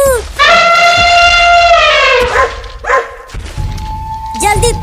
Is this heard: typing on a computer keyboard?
no